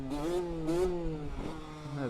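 A small 50cc–125cc motorcycle engine revs hard through a power wheelie, its droning pitch rising and falling in repeated surges, close and steady for about two seconds.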